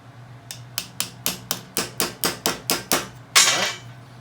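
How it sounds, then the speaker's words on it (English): A small hammer taps a metal pin on a motorized trailer dolly about a dozen times in a steady rhythm, sharp ringing strikes close by, ending with a heavier blow. "So I take a little tiny hammer."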